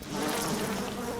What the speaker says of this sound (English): I threw bees at somebody, and they died